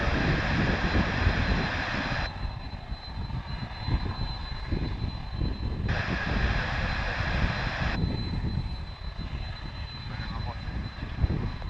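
Airplane passing at DFW International Airport, a steady broadband engine roar holding throughout at moderate distance, with brighter hiss swelling in two stretches.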